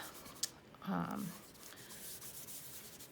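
A small embossing buddy pouch filled with cornstarch-like powder is rubbed across a card in one soft, brief brushing pass, close and quiet, after a light tap.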